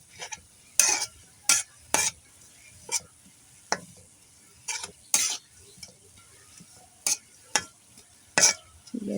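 A spatula presses and stirs a homemade pain-remedy mixture in a pan, giving about a dozen short, sharp scrapes and knocks at irregular intervals, up close, with a faint sizzle between them and no talking.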